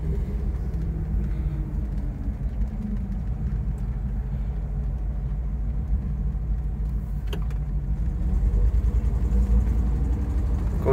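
A 1962 Bentley S2 Continental Flying Spur with HJ Mulliner coachwork drives along a road, its engine giving a steady low rumble heard from inside that swells slightly toward the end, with no talking.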